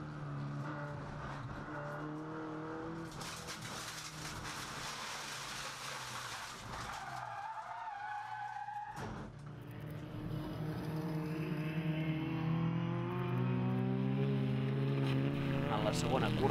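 Seat León Supercopa race car on track at Calafat, engine droning onboard through a corner, a brief dip around midway before the engine note returns louder with stepped harmonics; a commentator talks over it.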